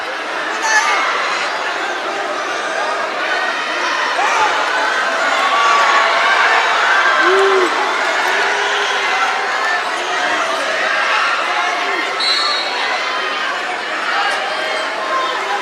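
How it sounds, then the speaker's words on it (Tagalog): A packed basketball arena crowd in Bacolor during a Philippine league finals game, a dense, continuous roar of chatter and cheering that fills the space, with a commentator talking over it. "He has to hear this crowd here in Bacolor."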